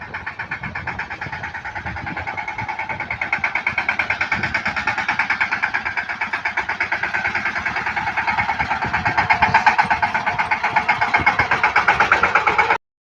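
A tractor engine runs steadily nearby with a loud, rapid, throbbing chug that holds an even rhythm for the whole stretch, and no voices are heard over it.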